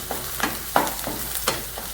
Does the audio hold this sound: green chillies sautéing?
yes